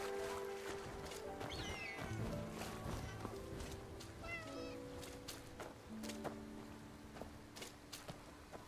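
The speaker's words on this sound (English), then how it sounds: "Oh my god, a kitty cat!" Several short meows from a cat in the video game Where Winds Meet, rising and falling among game music tones, footstep-like clicks and light ambient noise, fairly quiet and close.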